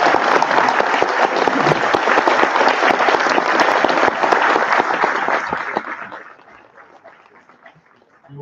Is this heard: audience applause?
yes